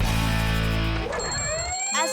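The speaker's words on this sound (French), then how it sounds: "À 7h30 chaque matin, le réveil se met à sonner." A morning alarm clock rings at 7:30, a loud sustained electronic tone that breaks into warbling, sliding pitches before it stops. It comes from a French cartoon.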